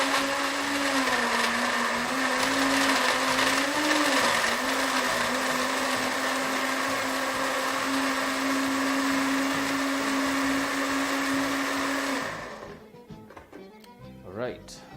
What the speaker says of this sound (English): and that goes straight to your blender.